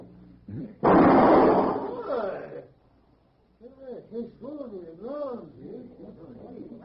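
A single loud gunshot rings out in an old western drama as a man's gun is shot from his hand. Someone speaking with a Spanish accent talks right after the blast.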